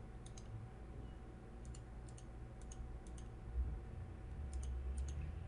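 Mouse clicks selecting text on a computer, a few sharp, faint clicks scattered in pairs over a low steady room hum, no talking.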